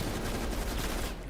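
Rapid automatic gunfire in the video game Black Ops Cold War, a dense, steady burst of shots hitting an enemy, loud and continuous throughout with no talk.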